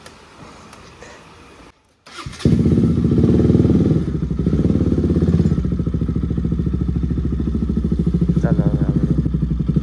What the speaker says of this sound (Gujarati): હવે આપણે ઘરેથી નીકળીએ છીએ આપણી બાઇક લઈને.